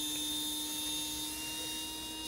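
A Warn winch motor on an RC crawler, run from a Traxxas controller, gives a steady, high electric whine with a constant tone, close and continuous over a low background hum, with no voices.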